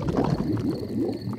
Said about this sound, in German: Mein Bauchgrummeln gehört zu den besten Klängen der Natur.